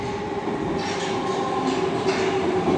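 A Budapest M3 metro train arrives at a renovated station, a continuous loud rumble with rail screech and rolling wheel noise filling the platform, faint voices in the background.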